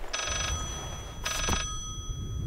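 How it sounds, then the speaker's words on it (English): A telephone rings inside the horror video game Layers of Fear, two bursts of an old-style bell ring with a pause between, heard alone against a quiet low rumble. "I can hear the phone."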